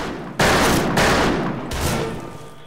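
Gunfire in the Western shooter Fistful of Frags: three loud, sharp bursts of shooting about half a second apart, each followed by a short ringing decay, with no talking.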